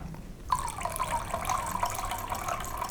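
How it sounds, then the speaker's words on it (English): White distilled vinegar pours steadily into milk in a coffee cup, a continuous close liquid stream that starts sharply after a quiet moment and runs on evenly to the end. "I'm adding to the milk 30 grams of white distilled vinegar"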